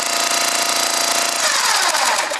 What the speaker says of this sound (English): then I'm going to start the engine and let it run for a little bit